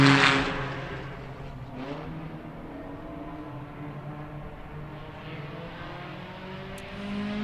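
A time attack race car at a motorsports festival brakes hard into a sharp left-hander, its engine note falling and droning as it slows, fairly distant with steady mechanical whine and no talking.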